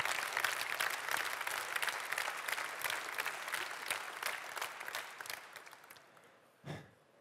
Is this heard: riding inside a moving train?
no